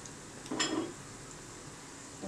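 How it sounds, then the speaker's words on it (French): Carrots tipped into a hot pan of leftover garlic prawn oil, a short clatter and burst of sizzle that quickly fades to a soft frying hiss. "Donc on rajoute les carottes"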